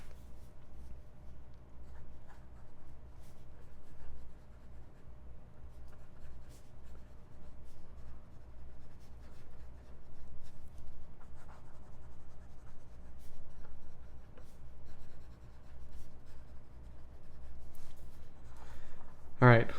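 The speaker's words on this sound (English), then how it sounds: "we'll do the writing sample with this guy" A Pilot Parallel 3.8mm calligraphy fountain pen writes on paper, giving soft, faint scratchy strokes close up over a low background hum.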